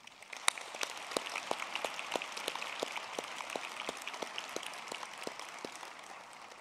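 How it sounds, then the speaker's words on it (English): Applause from an audience at a university graduation ceremony for the Humanities and Veterinary Science faculties, steady, moderately faint clapping with scattered sharper claps throughout. "Ladies and gentlemen, let's give them another round of applause."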